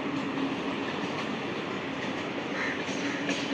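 A train standing or moving at Baranagar Road station on the Sealdah–Dankuni line, a steady broadband rumble with faint rail clatter, loud and continuous throughout, no voices.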